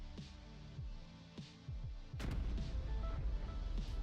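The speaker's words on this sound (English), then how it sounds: "That is a classic 8-bit sound." Retro 8-bit video game explosion effect: a few quick descending chiptune blips, then a loud, crunchy burst of digital noise that rumbles on steadily to the end.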